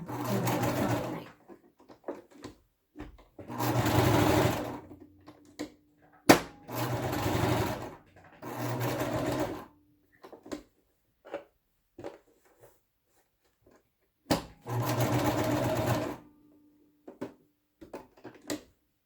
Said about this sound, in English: Turn on the light and then try several stitches to get the oil inside and to get it out right.